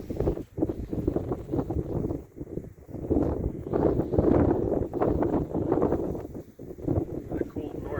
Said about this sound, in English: Got a cold north wind today